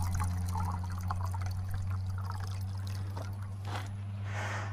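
Filtered water flows from a 4Patriots gravity water filtration system into a glass outdoors, a steady trickling pour over a constant low hum, growing brighter and splashier near the end.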